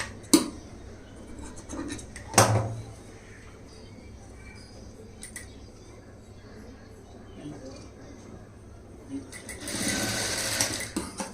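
A sewing machine stitching a blouse lining makes short bursts of whirring and a longer run near the end, quiet and close, with soft scratchy handling sounds between bursts.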